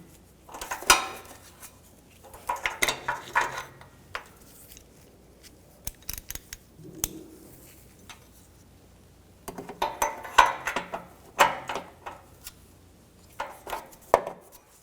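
Metal clinks and short ratcheting clicks from a wrench tightening a downstream oxygen sensor on a 2007-2013 BMW X5 3.0L inline-six, in bursts with quiet gaps between, fairly close.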